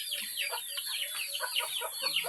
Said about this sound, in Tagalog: Daghan kila manok dari guys